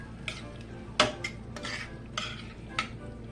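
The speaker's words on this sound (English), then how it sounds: "So I'm going to stir that in." Rotel tomatoes being stirred into ground beef for a cheesy casserole, a spoon scraping and clinking against the pot in several separate strokes over a faint background sizzle.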